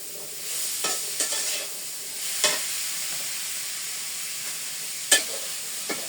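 Vegetables frying and being stirred in a pan, a steady close sizzle broken by several sharp clicks and scrapes of the spoon against the pan.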